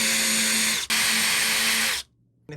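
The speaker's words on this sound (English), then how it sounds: "we'll put a couple of wee countersinks in that so that we've not got the screws showing up" A drill whining at steady high speed as it countersinks a screw hole in wood, close and loud, with a brief dip in the middle, then stopping abruptly and starting again.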